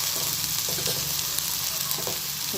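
Green chilies and onions sauté in hot oil for vermicelli kichadi, giving a steady, close sizzle with faint stirring scrapes underneath.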